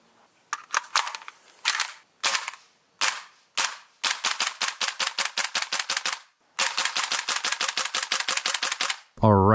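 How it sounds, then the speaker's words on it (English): An airsoft M4 pistol-style gas gun fires BBs in sharp, loud, close shots, first as single shots, then in long rapid bursts separated by brief pauses, ending with a short burst of voice. "I've been really looking forward to shooting this guy, basically a M4 pistol style gun"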